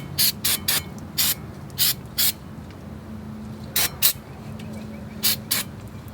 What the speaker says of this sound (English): On the actual rotor, I'm going to spray it off with brake cleaner.